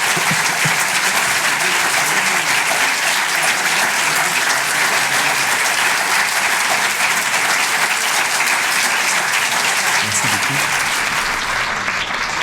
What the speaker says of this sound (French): les applaudissements nourris témoignent en tout cas de l'intérêt de cette première intervention